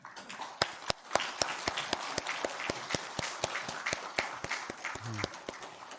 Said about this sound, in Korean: 우리 강사님에게 감사의 박수를 한번 보내드립니다